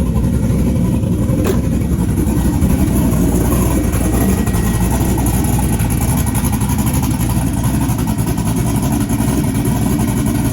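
A fully built car engine idles steadily on its first run, a loud, continuous low rumble with a slightly uneven pulse and no pauses.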